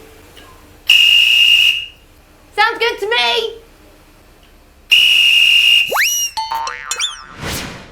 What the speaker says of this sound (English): It's an electric blower that lets us test the whistles one by one.